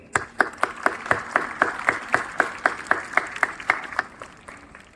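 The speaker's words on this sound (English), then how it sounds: "So let us give a huge round of applause to our lovely parents." Audience at a school academic awards ceremony claps in a steady rhythm of sharp, separate hand claps, each strong and evenly spaced, as if a small group is clapping in unison rather than a full crowd.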